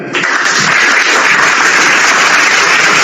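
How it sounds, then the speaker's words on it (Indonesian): Audience applause after a remark during a heated religious debate between a pastor and a presenter, dense loud clapping that starts abruptly and stays steady and close throughout, with no talking over it. "Tepuk tangan untuk itu."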